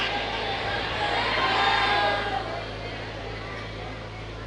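An audience at a religious talk shouts back loudly in unison, a dense sustained roar of many voices that swells and then eases off.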